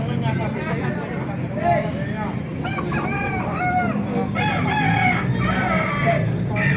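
An 8-month-old SBR gamefowl rooster crows and clucks nearby, with other fowl calling around it, while someone talks throughout.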